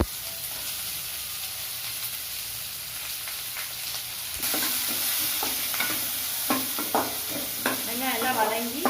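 Chopped onions sauté in hot oil with curry leaves, cloves, cardamom and a piece of cinnamon for a paneer gravy: a steady close hiss that turns louder and brighter midway, with scattered scrapes and clinks of stirring toward the end.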